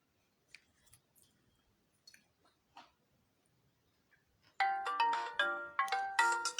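An incoming-call phone ringtone plays loudly in repeated bursts through the second half, after a stretch of faint scattered sounds.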